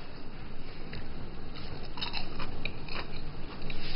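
Crisp crunching bites into fried ginger croquettes seasoned with salt and pepper, several close, brittle crackles and chews in quick succession with no talking.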